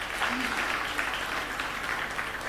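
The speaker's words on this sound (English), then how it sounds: "I think that deserves an applause too." Audience applause at a Women in STEM and Maritime conference: a steady, even patter of many hands clapping, with a voice briefly audible near the start.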